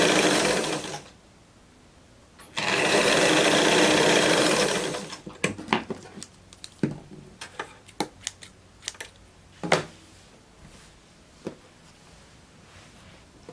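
Sewing machine running in two steady bursts while hemming a skirt waistline, followed by scattered small clicks and fabric handling, no voices.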